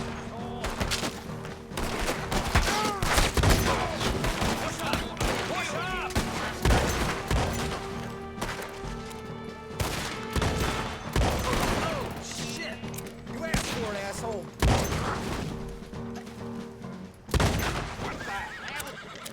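Gunfire in Red Dead Redemption 2, with rapid volleys of shots and bursts crackling throughout a busy, dense shootout, horses neighing in between, and no clear talk over the action.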